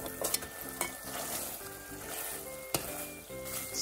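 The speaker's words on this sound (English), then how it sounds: "Still cooking beef on low heat." Beef cooking over low heat in coconut milk and red curry paste for Thai red curry, a soft continuous bubbling sizzle with occasional clicking stirs and scrapes, fairly quiet and close, no voices.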